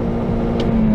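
A car engine held near its red line in neutral, a loud steady high-rev drone with a strong sustained tone and a slight swell toward the end, alone without talk.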